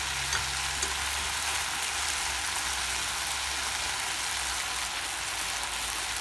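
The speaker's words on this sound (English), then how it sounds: "Just give it a mix." Vegetable white curry with beans and lime juice sizzles and bubbles in a pot while being mixed, giving a steady, dense frying hiss with faint scrapes throughout.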